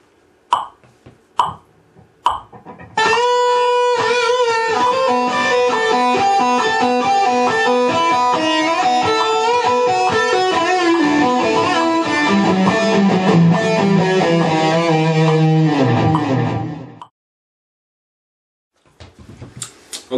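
Electric guitar on a Jackson Adrian Smith model plays a solo phrase with a metronome, clicks counting in before a sustained run of bent, descending notes that stops abruptly, then faint clicks resume.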